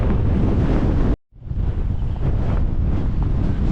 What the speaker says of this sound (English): We're a bit more exposed to the wind now.